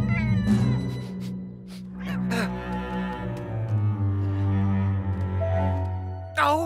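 A cartoon cat meows and caterwauls loudly, drawn out and wavering, over a busy music score, with a sharp yowl at the end.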